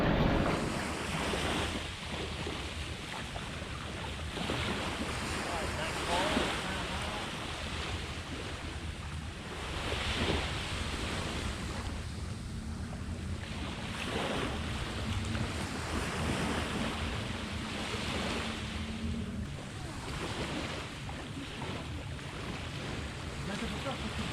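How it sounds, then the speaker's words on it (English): Ocean waves wash onto a Malaysian island beach in slow repeated surges, with steady wind buffeting the microphone throughout; moderately loud and near, no talk. "My God, guys, this water is incredible. This beach is perfect."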